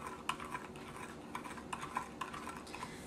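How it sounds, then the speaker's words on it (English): A utensil stirring a thick monkey bread mixture in a bowl, with soft repeated scraping and light clinks at an uneven pace, quiet and close. "I'm going to stir this a little bit more."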